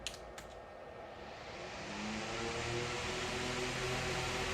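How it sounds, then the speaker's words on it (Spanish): A 110 V electric fan switched on through a transistor relay circuit: a light click, then a steady motor hum and airy whoosh building up over a couple of seconds and holding. "se apaga el bombillo y debe prender el ventilador"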